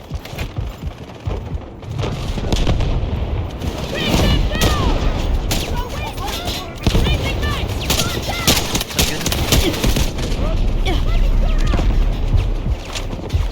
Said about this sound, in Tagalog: Okay, baril lang kayo ng baril.